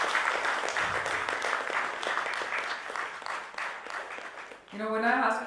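Applause from a conference audience at a procurement leaders summit panel, a crowd clapping steadily then thinning out, with a voice starting to speak over the last second.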